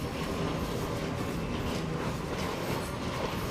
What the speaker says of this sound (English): They were giving rides in trolley number 10, a suburban trolley that was built in 1914.